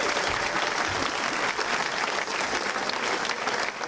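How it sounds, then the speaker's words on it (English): Sustained audience applause at a comedy show, dense and steady for about four seconds, with a loud, even wash of clapping and no clear talk over it. "That's a round of applause for Angela."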